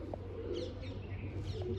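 Pigeons in a loft give soft cooing calls with a few faint chirps, steady and close over a low background hum, no voices.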